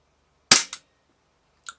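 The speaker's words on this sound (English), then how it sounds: "first shot of the WE Glock 17" A WE Glock 17 airsoft pistol fires a single sharp, close, loud crack, followed by a brief mechanical clack and a faint distant tick a second later.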